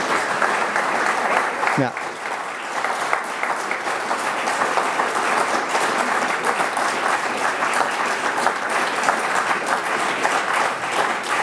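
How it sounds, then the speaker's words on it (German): Sustained applause from an audience at a school-on-the-farm anniversary ceremony in Kirchberg, dense steady clapping lasting throughout, with a brief spoken word near the start. "dieser Applaus, den ich jetzt fast noch abklemmen musste"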